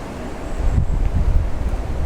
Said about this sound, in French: Là, si je parle pas, on n'entendra que le bruit du vent.